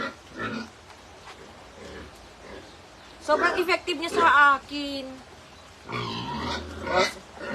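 Pig grunts and snorts come in bursts, with people talking over and between them.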